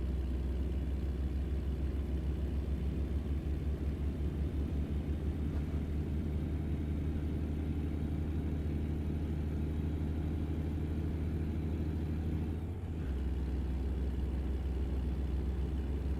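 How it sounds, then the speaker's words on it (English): Truck engine with a deep, bassy exhaust note, a continuous low rumble droning steadily from inside the cab for the whole stretch, with a brief dip late on and no voices. "Such a bassy note through the exhaust."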